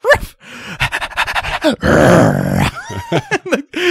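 Human voice imitating a dog for a cartoon, delivering a run of close, loud panting, growls, whimpers and yelping barks in quick bursts, with one longer rough growl in the middle.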